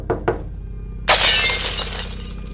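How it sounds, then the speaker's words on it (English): Glass suddenly shatters in a kitchen window right after a bang against the glass, two short knocks leading into a loud crash whose breaking, tinkling debris trails off close by, with no talking. "There was this quick and sudden loud bang on the glass, followed by a window in the kitchen completely shattering."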